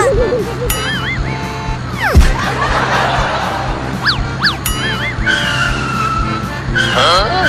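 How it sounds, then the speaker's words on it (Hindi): A tempo driven fast skids with tyre screeches and engine whines, a continuous loud cartoonish chase mix with sliding pitch sweeps, under chuckling and laughter. "तू तो टेम्पो को बहुत तेज चला रहा है"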